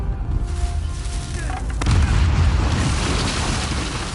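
A deep explosion booms in the Uncharted 4 video game, rising into a loud sustained rumble with crackling debris after a quieter stretch.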